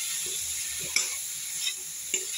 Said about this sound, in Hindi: मैंने थोड़ा सा नींबू डाल दिया, मिक्स कर दिया